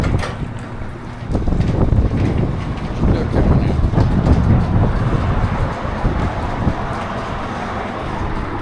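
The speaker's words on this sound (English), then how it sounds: "Wind is really blowing here today." Strong wind of about 15 miles per hour blows beside the Tennessee River near a Hewescraft boat, a loud continuous roar with gusty buffeting on the microphone and no break throughout.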